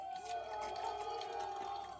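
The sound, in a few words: locals cheering the rebels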